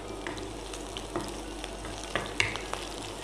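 Ginger, green chillies and curry leaves fry in a pan for garlic pickle, a dense, steady crackling sizzle close by, dotted with small sharp pops and occasional stirring scrapes.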